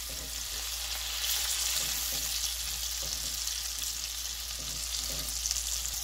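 Food frying in oil in a Telugu home kitchen pan, flipped over partway through cooking; a steady loud sizzle fills the whole stretch with faint scraping from the turning, and no one speaks.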